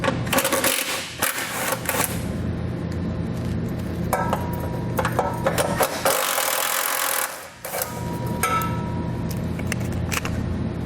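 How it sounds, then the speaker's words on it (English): Two 10mm fasteners being removed from the side underbody panel of a 2016 Ford Edge, heard as a loud, continuous whirring power driver with clicking and rattling, no talk, briefly easing midway. "we're going to remove these 2 10mm fasteners"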